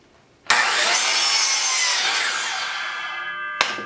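A power saw cutting a wooden guide piece narrower for a South Bend lathe tool tray, one loud continuous cut of about three seconds that starts abruptly and tapers off, then a brief knock.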